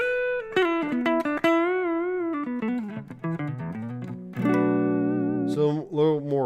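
Electric guitar played through an amp with the bass control turned fully up, giving sustained harmonic-rich notes and chords with a fuller low end. It plays clearly and fairly loud on its own.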